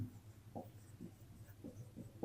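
Pen or chalk strokes as numbers are written during a math lesson, faint short scratches in an irregular rhythm against a quiet room hum.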